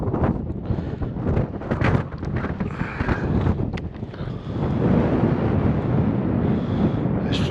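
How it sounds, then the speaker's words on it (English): Strong wind buffeting a microphone on a hilltop at night on Rannerdale Knotts, loud low rumbling gusts and thumps filling the whole stretch, close and continuous. "You can probably hear the wind buffering on the microphone"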